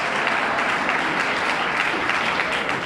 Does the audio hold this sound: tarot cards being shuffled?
no